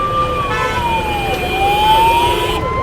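A fire brigade engine siren wails loud and close at a paint shop fire on a city road, its tone sweeping slowly down then rising again over steady traffic and engine noise.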